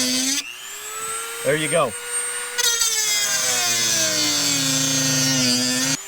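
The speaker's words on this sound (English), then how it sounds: "I'm just holding the Dremel just enough where it's kind of like cutting, but not cutting all the way to the other side" A Dremel rotary tool cuts a hatch opening in a Crescent Kayaks Shoalie hull along a tape line, making a steady high-pitched whine that runs close and loud, broken briefly by a short spoken remark.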